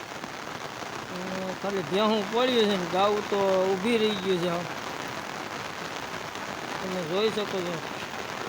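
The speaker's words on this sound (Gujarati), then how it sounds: "હાલો વરસાદ વરસવા માંડ્યો છે તમે જોઈ શકો છો" Heavy rain pours down in an outdoor spot where buffaloes are kept, a constant broadband hiss under someone talking.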